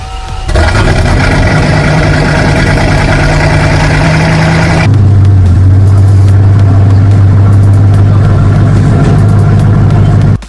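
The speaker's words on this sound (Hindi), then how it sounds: "ऑलमोस्ट 500 किलोमीटर पर आवर की स्पीड से ये गाड़ी चीरते हुए जाती है" A Bugatti hypercar engine roaring steadily and loudly at very high speed, a dense sustained drone that shifts to a lower, heavier tone midway as the gear changes, with no talk.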